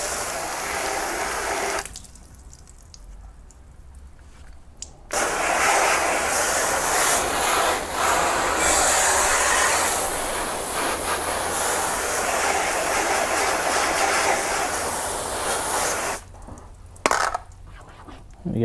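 Water sprays steadily from a hose, rinsing degreaser off a car's trim, with a short lull partway through and a brief stop near the end.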